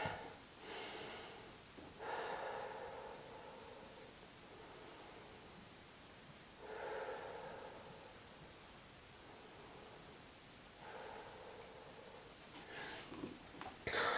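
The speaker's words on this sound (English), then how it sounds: "In through your nose, out through your mouth. Let's take 2 more deep breaths here." Slow, deep breaths drawn in through the nose and pushed out through the mouth during a Pilates workout, a few soft airy rushes spaced several seconds apart, close and fairly quiet with no talking.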